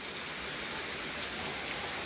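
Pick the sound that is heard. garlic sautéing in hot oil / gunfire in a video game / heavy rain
heavy rain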